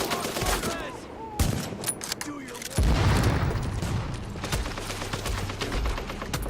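Rapid, sustained gunfire from The Division's solo Times Square Legendary mission: loud overlapping bursts of shots that thicken into a dense barrage midway and continue to the end.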